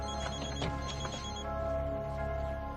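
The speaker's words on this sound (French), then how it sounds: "Mon téléphone sonne." A telephone ringing indoors, a repeated electronic ringtone with bright pulsing tones over a low background hum at moderate level.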